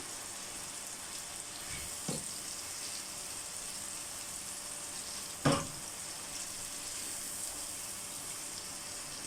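Boneless chicken fries lightly over low heat in a pot, a faint, even sizzle with two brief clinks of a utensil, one louder than the other.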